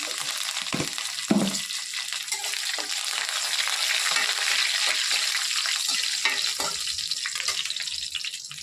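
Hot oil sizzles and crackles continuously as tempering spices fry, with scattered sharp pops and a few light clinks, close up and with no voices.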